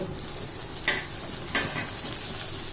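Onion, garlic and tomato sautéing in a pan, a soft continuous sizzle broken by two sharp utensil scrapes and a final clack, close and without speech.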